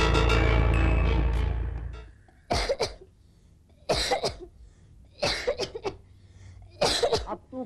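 A voice gives way to several sharp, harsh coughs in separate bursts, close and fairly loud, with short quiet gaps between them.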